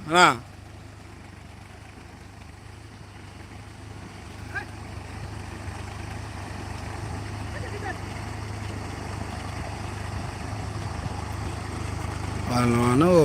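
A tractor ploughing a field, its engine a steady low drone that gradually swells louder, with short bursts of voices at the start and end.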